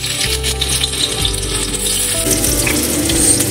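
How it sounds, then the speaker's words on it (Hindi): Onions fry in hot oil in a kadai with a loud, continuous close-up sizzle, a low hum running beneath and occasional light clicks. "सबसे पहले हम प्याज को भून लेंगे।"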